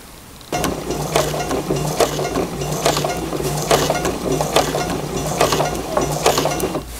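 A home sewing machine topstitches a shirt dress in beige thread using a stitch-in-the-ditch foot, a close, steady mechanical clatter with rhythmic needle ticks that starts abruptly and runs on.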